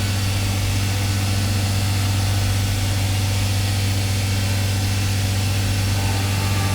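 CNC machine boring Harley-Davidson Twin Cam engine cases for a 124 cubic inch build, working down toward an O-ring groove; a steady, loud machine drone with a strong low hum runs without a break and no talking.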